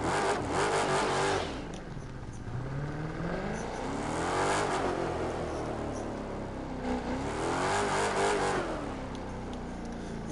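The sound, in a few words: Chrysler SRT V8 engine revving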